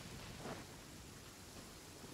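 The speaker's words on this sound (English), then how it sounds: "Chat in the rain?" Rain hisses steadily in Genshin Impact while a low thunder rumble rolls through near the start, a faint, even wash of storm noise with no voices.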